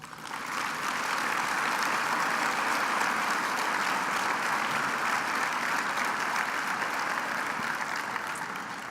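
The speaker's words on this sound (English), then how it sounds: "please join me in a round of applause" Sustained audience applause at an aviation museum anniversary luncheon, a steady, full wash of many hands clapping for the whole stretch with no talk over it.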